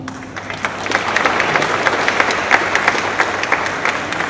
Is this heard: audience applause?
yes